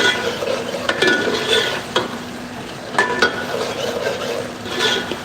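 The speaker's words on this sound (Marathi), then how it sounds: "कड़ी का तड़का मार रहा है ओने डाल के महाराष्ट्र स्टाइल" A Maharashtra-style tadka with onion sizzles for kadhi. Steady frying hiss and stirring are broken by several distinct metallic clanks of a spoon on the pan, loud and near, with no talking.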